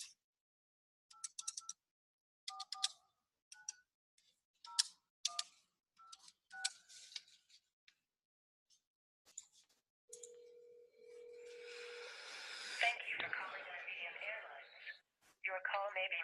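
A telephone is dialed from a contact-center softphone, with a quiet run of short keypad beeps followed by a steady tone and then a recorded voice prompt over the line.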